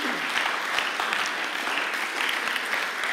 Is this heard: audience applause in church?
yes